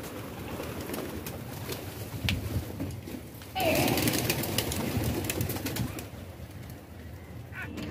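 Pigeons coo steadily in a loft during feeding and breeding, a dense murmuring flock heard up close with scattered wing flutters and rustling throughout.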